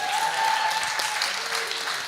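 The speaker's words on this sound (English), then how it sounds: "a warm round of applause for SteemIt Incorporated" Steady applause from a conference audience at a blockchain event in Bangkok, a continuous dense wash of many hands clapping at even loudness throughout, with a faint tone running beneath during the first part.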